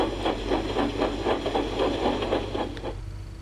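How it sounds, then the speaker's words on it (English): A cartoon steam locomotive puffs into a station, rhythmic chuffs of steam over a low engine rumble, fading slightly at the end. "James puffed into the bigger station."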